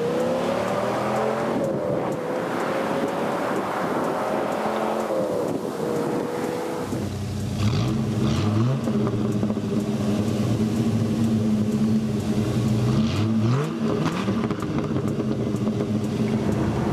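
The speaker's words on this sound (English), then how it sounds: "we're gonna go for a ride in the fastest production truck ever made" A 2004 Dodge Ram SRT-10 pickup with an 8.3-liter Viper V10 making 500 horsepower drives along, its engine droning steadily, then revving up through gears with rising and falling pitch sweeps.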